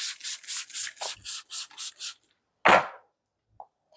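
Scissors cut hair into a square bob shape along the side line in a salon, giving a quick run of about ten crisp, rhythmic snipping strokes, then a pause, one louder cut and a faint final snip.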